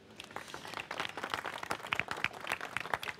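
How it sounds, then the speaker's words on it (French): Audience clapping for a retirement-home choir from Mayenne, a dense patter of many hands at moderate level, steady for a few seconds with no voices over it. "On peut les applaudir."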